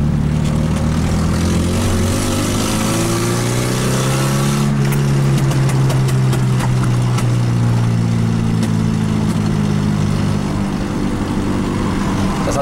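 A Nissan 240SX engine and exhaust rev up and ease off with rising and falling tones, loud and close inside the car, over a constant road rumble; brief clicking ticks cut through partway along.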